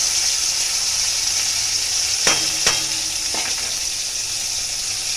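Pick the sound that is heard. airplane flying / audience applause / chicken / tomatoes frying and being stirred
tomatoes frying and being stirred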